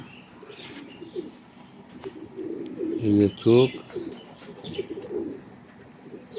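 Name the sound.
pigeons cooing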